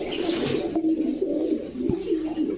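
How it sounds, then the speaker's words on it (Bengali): Giribaz pigeons kept for sale coo steadily close by, a soft, low, rolling murmur that continues without a break, with no talk. "এটা ক্লাবের কবুতরটা ভালো আছে"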